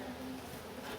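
Honey bees buzz in a dense, steady drone right at an opened nuc hive, close and continuous for a brief moment.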